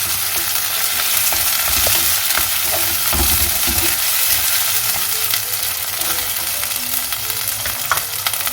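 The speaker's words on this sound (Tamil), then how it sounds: "தக்காளி நல்லா வதங்கணும், நல்லா குழைவாக வதங்கணும்" Chopped tomatoes sauté with onion in a pan for a peanut and country-vegetable kara kuzhambu curry, a steady, close sizzle with occasional stirring scrapes throughout.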